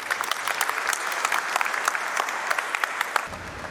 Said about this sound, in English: I would say a big round of applause to make it happen